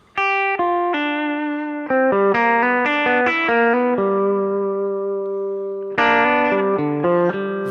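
An electric guitar plays a country lick in G that adds the major third, with clear plucked notes, sustained bends and double-stops, and a short chordal flourish, heard alone through an effects unit.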